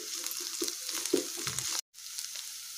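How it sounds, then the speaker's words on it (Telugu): Ginger garlic paste fries in a pan with a steady, close sizzle, broken by soft stirring scrapes and a brief gap before the sizzling resumes. "తర్వాత అల్లం వెల్లుల్లి పేస్ట్ వేసుకొని ఫ్రై చేసుకోవాలి."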